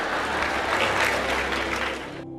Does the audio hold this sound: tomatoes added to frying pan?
no